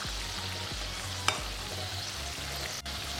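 Potato fingers deep frying in oil, a dense continuous bubbling sizzle, steady and close, with one brief sharp click and a low rhythmic hum underneath.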